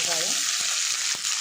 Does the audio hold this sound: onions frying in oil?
yes